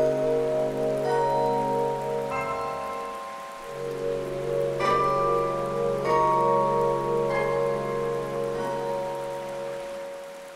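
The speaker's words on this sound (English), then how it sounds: "Different spider species build their delicate webs despite the raindrops." Rain falls steadily in a tropical jungle, a soft continuous patter of drops on leaves, with musical tones playing over it throughout.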